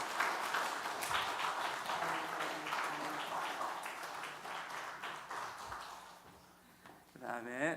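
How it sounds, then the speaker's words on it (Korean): A church congregation applauds during a children's award presentation at a Korean Sunday service, with steady sustained clapping filling the room for several seconds before it tapers off and a voice begins speaking at the end. "우리 받을 때 우리 박수 부탁드리겠습니다."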